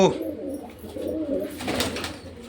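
Golden pigeons coo in short, soft, repeated calls at close range, with faint background rustling.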